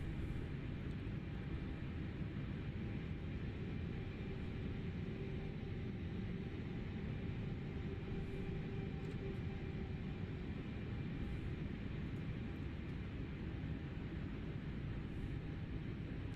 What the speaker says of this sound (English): we'll go ahead and disengage the parking brake and begin our taxi